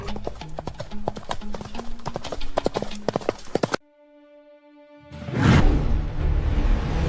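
Rapid rhythmic clip-clop of galloping horse hooves, loud and close, cuts out into a brief held tone and then a rushing whoosh.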